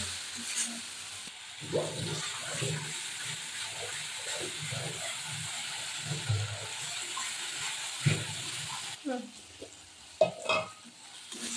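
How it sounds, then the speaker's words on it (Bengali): Ground cumin, black pepper and other ground spices fry in a pan for an egg chop curry, with a soft, steady sizzle and intermittent scraping stir strokes, quiet and close. "এবার এটা ভালো করে মশলাটা কষিয়ে নেব।"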